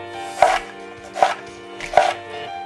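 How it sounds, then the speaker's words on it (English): A sharp kitchen knife chopping vegetables on a cutting board for dirty rice and beans, three distinct, evenly spaced thuds close up, no talking. "Next, we're going to start cutting all of our vegetables."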